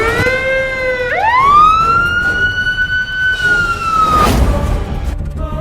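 A fire brigade truck's siren wails loud and close, rising sharply into a long sustained tone before cutting off, with engine rumble underneath.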